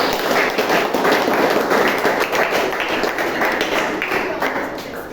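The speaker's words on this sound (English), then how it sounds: "So give a big round of applause." A Toastmasters meeting audience gives a round of applause: steady, dense clapping from many hands, loud and sustained, fading slightly toward the end.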